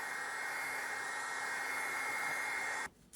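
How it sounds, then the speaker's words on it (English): A heat gun blows a steady, loud, close hiss of hot air onto roofing material for a repair, running unbroken before cutting off abruptly at the end. "We had to use a heat gun to warm it up"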